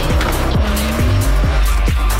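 Tires squeal in the drifting video game CarX Street over a loud, steady engine roar, with a continuous howl of rubber and repeated rhythmic pulses, close and intense.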